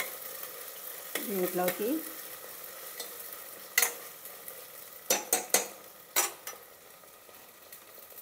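Ingredients for kichidi frying in a pan while being stirred, with scraping spoon strokes and soft sizzling, sharp clinks of a utensil against the pan near the end, and a brief spoken word over it.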